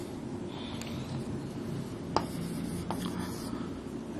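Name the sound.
writing on the board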